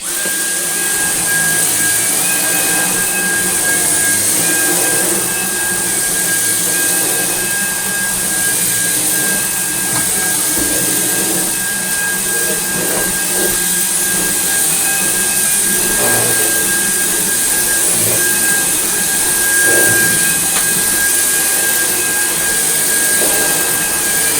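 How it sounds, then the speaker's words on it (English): Dyson V11 cordless vacuum cleaner running in boost mode with its head on max while cleaning a rug, a loud steady high-pitched whine and rushing airflow that continues throughout with no pauses. "I'll grab the Dyson V11, put the head on max, put the machine into boost mode, and away we go"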